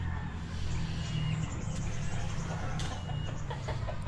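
A red chicken, likely a Rhode Island, clucks in a few short bursts at a modest distance against a steady rural background hum, with no one talking over it.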